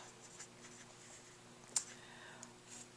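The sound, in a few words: writing with a pen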